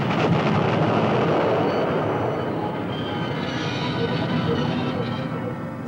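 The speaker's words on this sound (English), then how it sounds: "drove a train into it at 100 miles an hour" A train strikes a derailed yellow test flask at 100 miles an hour, heard as a loud rumbling roar that fades slightly over several seconds, with no voices.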